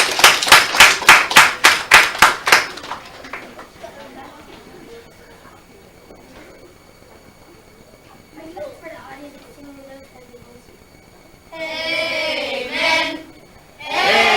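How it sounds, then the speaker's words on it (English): At a church summer Bible school closing ceremony, about nine loud, evenly spaced claps ring out in unison, then the room falls quiet before voices and singing rise near the end. "Give them a round of applause as they come."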